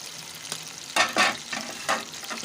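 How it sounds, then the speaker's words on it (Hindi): Onions going into hot ghee for a desi dish crackle and sizzle steadily, with a few louder bursts as they hit the fat and are stirred, close by with no talking. "प्याज डाल दूँगी।"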